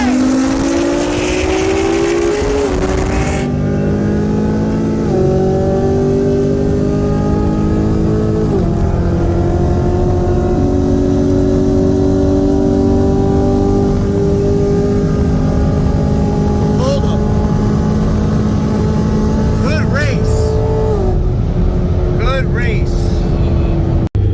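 A modified 2014 Nissan GT-R on E85 with stock turbos and a bolt-on, cammed 2017 Camaro ZL1 accelerate hard from a 65 mph roll, a loud droning engine climbing through gear shifts, with voices talking over it.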